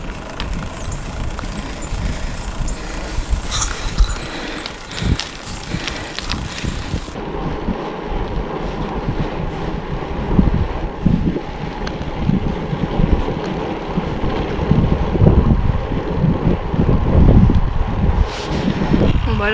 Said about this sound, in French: surtout qu'il y a plein de vent.